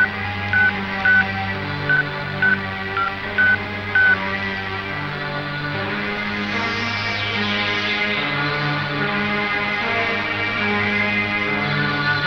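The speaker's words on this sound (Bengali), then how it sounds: "Dial the number." Telephone keypad tones from a number being dialed in a Bangla police drama film, a run of about eight short evenly spaced beeps, fairly loud and clear, followed by a steady underlying musical score with no speech.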